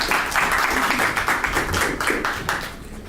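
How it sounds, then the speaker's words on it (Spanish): An audience at a radiotherapy conference gives a speaker a round of applause, a brisk, steady patter of many hands clapping together for about three seconds. "para quien solicito un aplauso"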